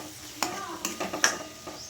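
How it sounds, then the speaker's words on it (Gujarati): Onions being stirred in a pan while cooking restaurant-style Punjabi chole, with a few scraping, clattering strokes of a spoon and a light sizzle underneath, fairly close and moderately loud. "પછી આપણે નાખીશું એમાં ડુંગળી, એને આવી રીતે મિક્સ કરી દઈશું।"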